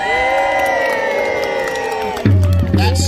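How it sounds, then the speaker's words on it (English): A crowd of spectators at a knights' tournament cheers and shouts in a loud burst of voices. Children's shouts and whoops rise sharply near the end. "Give them a cheer!"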